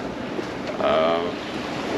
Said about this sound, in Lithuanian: Vėjas stiprokas, tik tais nepalankiai, jisai man pučia